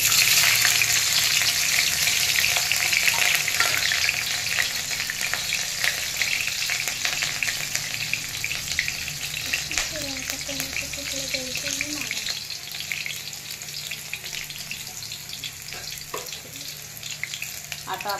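Chopped green chillies sizzle and spit in hot oil for sabudana khichdi, a steady loud frying hiss lasting throughout with occasional stirring clinks, fading slightly toward the end.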